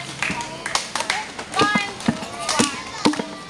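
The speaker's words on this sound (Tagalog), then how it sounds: "Si Popsy na palakpak." A group in a Manila slum community program claps on a count: sharp, scattered hand claps, some doubled, ring out close by amid children's voices and chatter.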